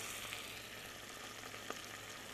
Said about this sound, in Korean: 향이 어느 정도 올라오면 홍합을 볶아주세요.